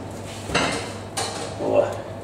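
Plates and dishes clatter in a kitchen, a few sharp bursts of ceramic knocking against a quiet room background, each brief and close.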